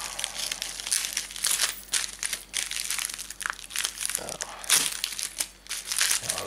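Crinkly packaging of a tiny Nano RX radio receiver is opened close up, with repeated sharp crackling and crumpling bursts in an irregular rhythm, fairly quiet overall.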